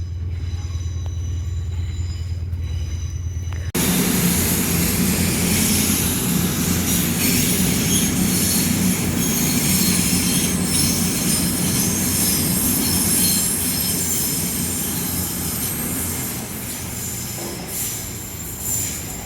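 A King's Cross to Edinburgh passenger train rumbles through a station at close range, a sudden loud onset followed by a sustained roar of wheels on rails with faint squeals.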